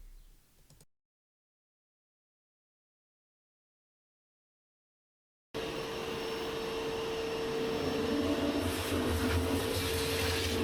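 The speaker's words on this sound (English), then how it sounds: "I'm just raising the spindle higher and then moving the workpiece forward in the" A beginner's CNC router raises its spindle and moves the workpiece forward, a steady mechanical whine and hum starting abruptly after a brief silence and holding loud and continuous.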